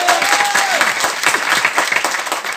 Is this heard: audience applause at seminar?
yes